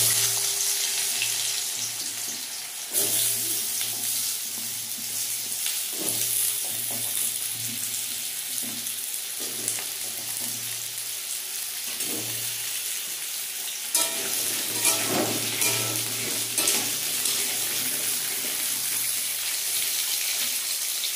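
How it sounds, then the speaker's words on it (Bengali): Potatoes fry in a pan as part of a Bengali prawn and banana-flower curry, giving a steady close sizzle with occasional stirring scrapes throughout, with no talking. "এবার আলুগুলোকে ভেজে নেব।"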